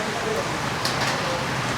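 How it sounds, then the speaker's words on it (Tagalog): Heavy rain drumming on a roof in Oriental Mindoro, Philippines, a dense, constant close hiss with no break for its whole length. "Lakas ng ulan."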